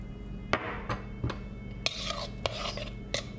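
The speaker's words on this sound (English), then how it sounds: "Give that a stir" Avocado sprinkled with lime juice, along with serranos and garlic, stirred in a bowl for guacamole: a run of close scraping, rasping strokes with soft clicks of a utensil against the bowl, irregular and fairly quiet.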